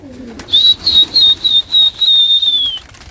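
Pigeons in a rooftop loft give a close, steady series of pulsing calls in a repeated rhythm, running alone for a couple of seconds with no talk over them.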